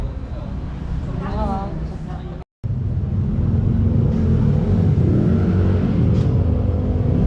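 A racing motorcycle engine runs loud and close, a steady low rumble with revving swells throughout, briefly cut out near the middle; voices talk over it early on.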